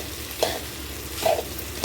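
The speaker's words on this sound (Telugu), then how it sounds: "ఇప్పుడు ఇలా కలిపేసుకోవడమే" Leftover rice with tempering (talimpu annam) being mixed in a pan at home, with two short scraping stirs a second apart over a low, steady background.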